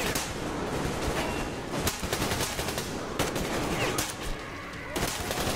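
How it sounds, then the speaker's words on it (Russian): An air rifle firing in the shooter game Metro Exodus: rapid bursts of loud, sharp shots layered over a dense, constant din, with a few stronger cracks standing out near the end. "О, воздушка чудит! Давно так не стрелял."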